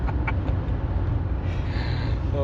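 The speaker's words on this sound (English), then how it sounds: "This is gonna be noisy. That's my car." A car being driven, with steady low engine and road rumble holding constant throughout, close and moderately loud, a few faint higher tones drifting over the top.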